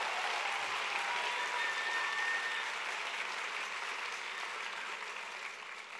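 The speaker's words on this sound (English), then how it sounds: "So give her a big round of applause." A large crowd at a political rally in Denver, Colorado applauds in a steady, dense wash of clapping that holds strong for several seconds before starting to taper off.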